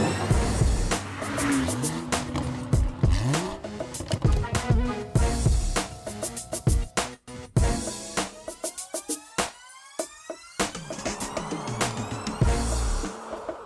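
A 2019 BMW 750 xDrive, the full-size flagship sedan with a 445-horsepower 4.4-liter V8, accelerating: engine revs swell and fall in sweeping rises, close and fairly loud amid a busy mix of other noises.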